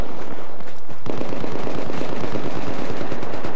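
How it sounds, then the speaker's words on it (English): A light machine gun fires in Battlefield 4, a loud close burst of rapid evenly spaced shots that starts after a short lead-in and keeps hammering in a steady rhythm to the end, no talking. "I don't get how this LMG works."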